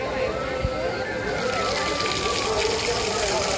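Artificial rain pours in an air-conditioned Himalaya-themed exhibit, a steady broadband wash of falling water close by, with people talking over it throughout.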